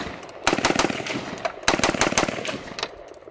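Pistol shots at a shooting range with a very light trigger, fired in two quick strings of sharp, loud cracks with echoing tails and a short pause between strings.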